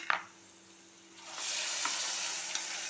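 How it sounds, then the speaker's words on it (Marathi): Ground spice paste is tipped into hot oil in a pan and begins a steady, hissing sizzle that holds for a couple of seconds after a quiet start, with faint stirring scrapes. "आणि आता आपण ह्याच्यामध्ये हा वाटण घालून घेणार आहोत सगळं"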